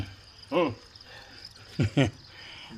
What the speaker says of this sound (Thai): อันนี้จิ้งหรีดแมงสดิ้งนะครับ เลี้ยงในท่อปูนจิ้งหรีดเล็ก